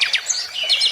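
A caged kacer songbird, offered for sale, chirps close by in quick high-pitched tweets and short descending whistled notes, loud and clear with no talking.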